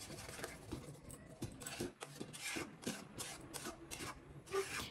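Repeated scraping strokes of a spoon stirring chhana simmering in milk in a pot, a steady close rubbing rhythm with no voices.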